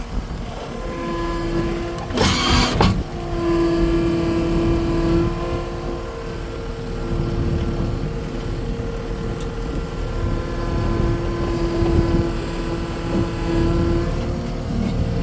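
Caterpillar skid steer running with its brake released, a steady loud engine and hydraulic drone throughout, with a brief harsher burst early on; worn tracks and leaking drive motor hydraulic hoses.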